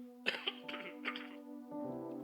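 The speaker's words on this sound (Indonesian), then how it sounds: "Saya mohon maaf, agak sedikit batuk." A preacher at a church worship service coughs and clears his throat in a few short, sharp bursts close to the microphone over a steady background hum.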